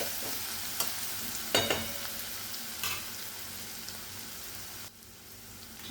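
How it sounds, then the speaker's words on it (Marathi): Green chili, coriander and garlic paste fries in a pan with asafoetida, a soft steady sizzle broken by a few louder stirring scrapes, close and fairly quiet with no talking. "ही जी आपण मिक्सरमध्ये पेस्ट केली हिरवी मिरची, कोथिंबीर आणि लसूणची ती टाकून व्यवस्थित परतून घेऊया"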